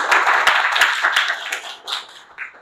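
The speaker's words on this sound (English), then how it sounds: "Please give him a big round of applause." An audience at a Toastmasters club meeting gives a short round of applause, a small group clapping close by with sharp individual claps before it trails off.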